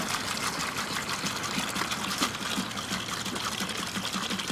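Maple sap from a full, overflowing collection bucket being poured out, a continuous splashing gush of liquid heard up close and on its own.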